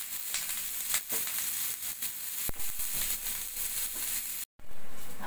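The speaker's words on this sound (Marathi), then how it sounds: "हा थोडासा कांदा आपण गुलाबी रंगावर परतून घेणार आहोत" Chopped onion sautéing in a pan until turning pink, a steady loud sizzle and hiss with occasional stirring clatter and a sharp clink, briefly cutting out near the end before the frying noise returns.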